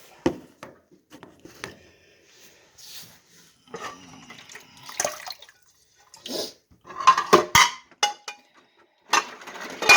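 Dishes are rinsed with hot boiled water and no running tap, giving close, intermittent splashes and pours with clinks of dishware and drips, growing busier toward the end without speech.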